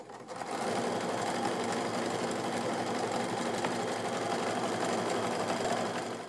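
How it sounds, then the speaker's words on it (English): A sewing machine runs steadily down a line of quilt block fabric, a close, even, whirring hum of stitches lasting several seconds without a break. "now I'm just going to sew that right down to the end"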